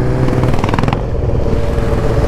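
Two custom motorcycles, a Strada with a Yamaha XT660 engine and a CG with a Honda Hornet engine, riding through town, making a loud close engine rumble and revving that settles into a steady drone.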